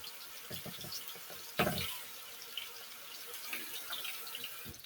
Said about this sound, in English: Turn the water off so the water doesn't annoy you